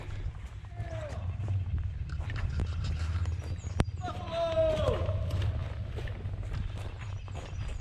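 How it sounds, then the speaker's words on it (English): A lone buffalo trots into a motorcycle campground, its hoofbeats a steady clip-clop on the ground amid outdoor ambience, with people talking over it throughout. "We have a random buffalo trotting his way into the campground."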